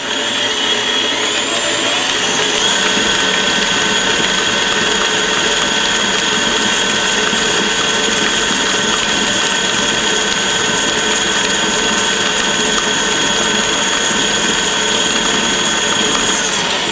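An electric mixer blends spritz cookie dough with an egg, almond extract and vanilla extract, giving a loud, steady whirring drone that barely varies and climbs slightly in pitch early on.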